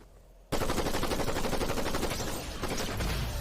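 Rapid gunfire from a pistol in Fortnite, starting abruptly after a short quiet lead-in and continuing as a loud, dense string of shots, slightly easing near the end.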